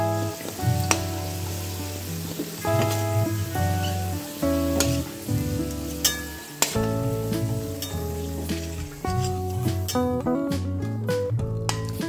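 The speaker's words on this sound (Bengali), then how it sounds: "আলুটা ভেজে নিয়েছি, আলুটা ভাজা হয়ে গিয়েছে" Potato pieces fry in oil in a covered pan in a Bengali village kitchen, giving a steady sizzle beneath prominent music throughout.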